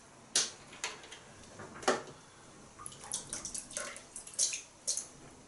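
Water splashes in cupped hands at a sink as a face is wet before shaving, a series of short, irregular close splashes and drips with quiet pauses between them.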